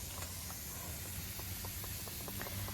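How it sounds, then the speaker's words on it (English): Water misted from a spray bottle onto potted plants such as hostas and canna lilies in a small garden, a steady soft hiss running throughout with faint intermittent ticks of the trigger. "So I just keep spraying them every day"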